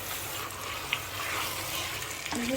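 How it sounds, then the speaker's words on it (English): Huckleberry leaves (njama njama) being stirred and mixed in a sizzling pot, a steady frying hiss with soft scraping of the spoon and a few light clinks. "We stir it together, mix it very well."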